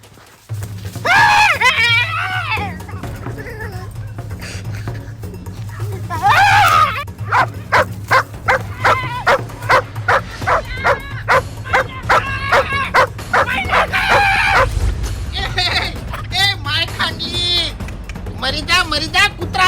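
A dog barks loudly and repeatedly in quick bursts close by, with yelps and whimpers mixed in, while people shout and talk over the commotion.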